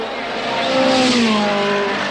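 Jim Clark's Lotus Ford on a racing circuit near his final lap, a loud engine note rising and sweeping in pitch as the car passes close by.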